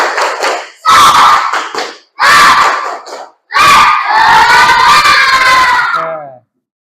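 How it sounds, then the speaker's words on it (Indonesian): Schoolchildren repeat a rhythmic spirit clap cheer in class, loud near bursts of clapping and chanted shouts in a patterned sequence, finishing with a long, drawn-out group shout that cuts off cleanly. "Sekali lagi coba, tepuk semangat."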